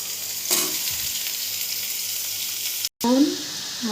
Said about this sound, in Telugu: దోసకాయ ముక్కలు వేయాలి.